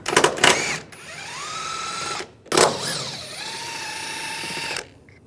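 A power ratchet or impact tool runs out 13mm engine mount bolts on a 2013-2016 Dodge Dart in two bursts: a loud clattering hit, then a sustained whine slowing in pitch, repeated once before stopping.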